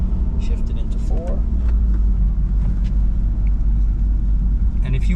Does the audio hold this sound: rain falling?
no